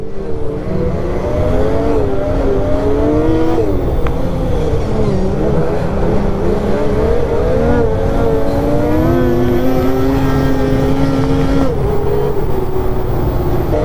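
An Assault Boost car accelerates out of a corner with the throttle opened, its engine note droning steadily and loudly and rising and falling in pitch as it pulls through the turn, with no talk.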